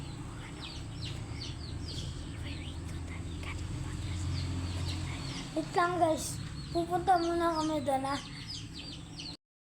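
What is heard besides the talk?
chickens on a farm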